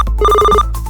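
A cartoon mobile phone rings with a short electronic ringtone, a bright repeating beeping tone that plays for about half a second and then stops.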